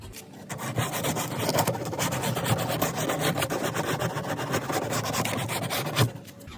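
Continuous rapid rasping of sandpaper scrubbing back and forth across a Nissan 370Z rear bumper, close and steady for several seconds.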